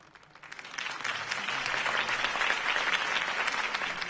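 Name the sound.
crowd applauding after a campaign speech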